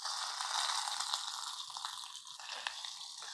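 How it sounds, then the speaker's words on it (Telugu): Cashew nuts frying in ghee, a steady bright hiss and sizzle, close and fairly quiet, with a few sharp crackles and no talking. "ఇందులో జీడిపప్పులు వేగనిచ్చి వేసేద్దాము"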